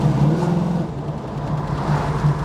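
A 1973 Plymouth 'Cuda's engine drones steadily while driving, a close, continuous low hum with a mild rise and fall in revs.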